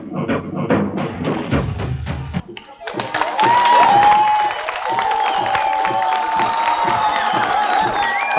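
Speech with thumps gives way to a burst of TV studio audience clapping and cheering for a game tournament winner, carrying on steadily, with a whistle-like tone rising over it.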